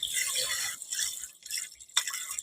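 Glutinous rice being washed in water before cooking it into biko, with close, uneven splashing and trickling and a few sharper drips and swishes standing out.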